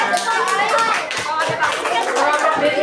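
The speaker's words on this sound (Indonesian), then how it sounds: "Tepuk tangan untuk kelompok sini." A class of young pupils claps for a classmate group in a school lesson, a dense patter of many small hands close by with children's chatter mixed in throughout.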